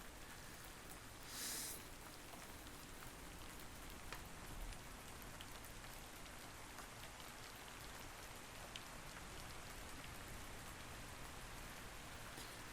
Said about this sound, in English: Oh, good. Rain now.